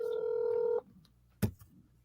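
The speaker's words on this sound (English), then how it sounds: "You calling Guapo?" Telephone keypad tones sound as a steady multi-tone beep for under a second while a call is dialed, then a brief click or clatter follows in a quiet room.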